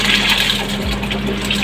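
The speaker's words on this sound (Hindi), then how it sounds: "अब मैं इसमें सारे राइस ऐड करूँगी।" Rice is poured into a pot of boiling water for Shahjahani pulao, bringing a loud rushing, bubbling gush of water with one brief low thud partway through.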